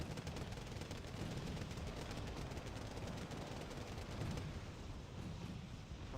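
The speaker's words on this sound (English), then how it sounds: "there's good use of mortars here to keep the infantry at bay" Mortar and gunfire from a Wargame Red Dragon battle, a dense continuous barrage of rapid shots and booming impacts rolling on steadily without a break, loud and cluttered, with no voices.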